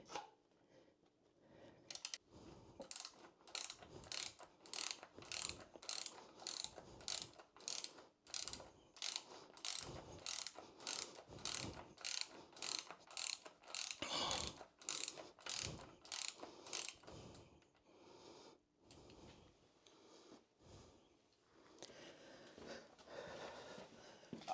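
A ratchet clicks in a quick, steady run of close, faint strokes, tightening a bolt on a Triumph Bobber springer seat kit, then slows into a few separate clicks and light handling noise.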